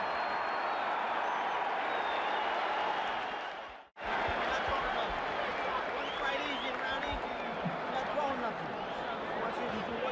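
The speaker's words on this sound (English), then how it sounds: "The crowd is really juiced up. I can hardly hear what he's saying." A boxing arena crowd roars between rounds of a Mike Tyson versus Larry Holmes fight, a loud continuous wash of cheering and noise, broken by a brief cut partway through.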